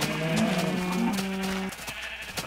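A video game cow gives a drawn-out low moo with a tonal, wavering call lasting over a second, fairly clear and close, then fades into quiet game ambience.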